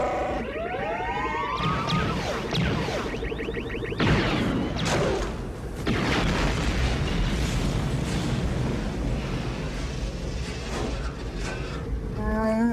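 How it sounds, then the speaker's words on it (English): A dense, layered cinematic explosion: whooshes and sweeping tones build, then heavy booms and a long rumbling roar with debris-like noise and shifting textures. "that's such a multi-layered explosion that I don't even know exactly what I'm hearing and where"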